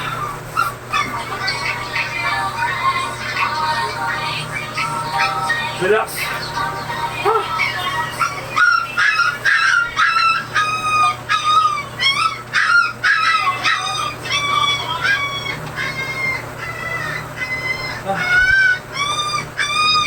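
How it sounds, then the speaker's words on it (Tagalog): Puppies whimper, yip and howl in a rapid string of high, wavering cries that grow denser and more insistent in the second half, close by over a steady low hum, with people talking at times. "Ay, Diyos ko yung mga tuta."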